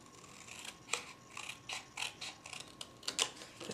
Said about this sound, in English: I just took my paper snips and cut